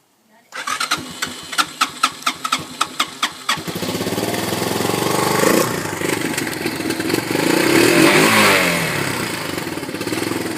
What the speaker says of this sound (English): once she warms up, it'll idle pretty much forever until you finally shut it off